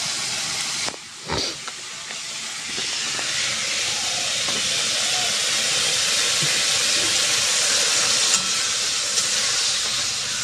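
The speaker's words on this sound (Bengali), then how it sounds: "এখন জল দিয়ে দেব মাছের ঝোলের জন্য।" Water poured into a hot pan for a Bengali fish curry with small pond fish and taro stems, bursting into a loud sustained steamy hiss after a brief clatter, hissing on steadily without talk.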